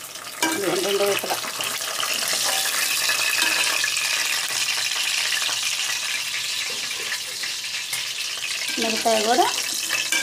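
Pieces of fish fry in hot oil in a pan, a continuous moderate sizzle with brief spoken voices over it near the start and end.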